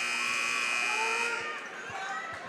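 A basketball game clock buzzer sounds at a varsity girls' high school game, a loud sustained electronic drone over arena crowd noise before it cuts off.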